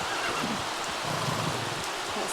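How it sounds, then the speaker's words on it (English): Rain falls in The Sims 3 as a steady, dense patter and hiss that fills the whole stretch, with faint soft thumps underneath. "Because it's raining."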